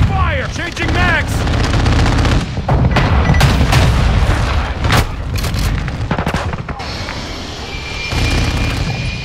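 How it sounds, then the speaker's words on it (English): Explosions from a cluster mine in a shooter video game, with heavy gunfire, dense rapid bursts and booms piling up over roughly nine seconds, loud and close throughout. "Friendly cluster mine deployed."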